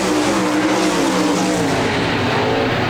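360 sprint cars roar through turn one at Park Jefferson Speedway, a loud, continuous engine drone that swells and sustains throughout without any voices.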